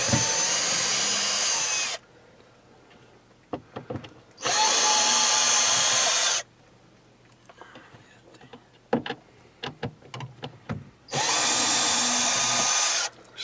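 Power drill backing screws out of the wall beside a Suburban RV water heater, three loud sustained whirring bursts separated by quieter handling clatter and small knocks.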